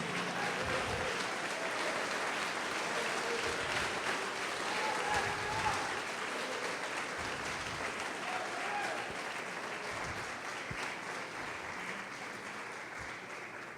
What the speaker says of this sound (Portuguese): Pode aplaudir o Senhor e glorificar a Deus.